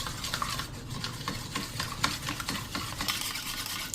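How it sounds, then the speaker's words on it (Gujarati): Three spoons of curd are whisked into a liquid for a homemade hair spa mix, a rapid, steady scraping and clicking of a whisk or spoon against a bowl, close and continuous with no talk. "અને એને એકદમ સરસ મિક્સ કરી લેશું."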